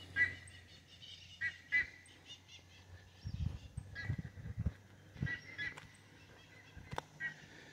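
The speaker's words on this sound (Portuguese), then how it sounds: "E aqui é barulho de água, de pássaros." Geese honking in short bursts at a country property in Pinhalzinho, São Paulo, near a pool, with faint water sound underneath; the calls are moderately close, spaced irregularly and fairly quiet overall.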